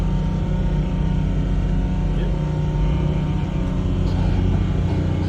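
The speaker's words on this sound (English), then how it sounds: "You can hear the engines" Steady low boat engine drone runs throughout at about 12 knots, a constant rumble with faint wind and water hiss, no talk.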